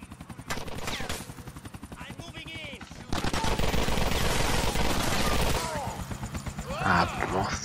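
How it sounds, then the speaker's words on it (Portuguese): Grand Theft Auto IV gameplay with a grenade blast and sustained automatic gunfire: dense, loud rattling bursts of shots, heavier in the middle, with a player talking over the combat. "Tem um maluco jogando granada"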